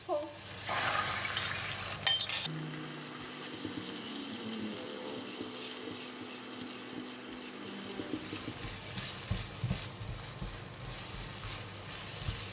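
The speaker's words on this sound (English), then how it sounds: "So we fried meat together with egg" Meat and egg are stir-fried in a wok, giving a steady, close sizzle and clatter, with running-water-like rushing and a sharp clank near the start.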